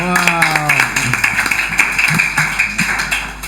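Audience applause at a church talk show, brisk overlapping hand claps, fairly close and steady, with a voice speaking briefly at the start.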